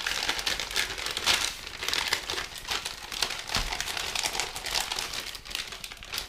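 MRE ration packaging for a spaghetti with beef and sauce meal is unpacked close up, producing continuous crinkling and crumpling of plastic wrappers in irregular bursts and rustles.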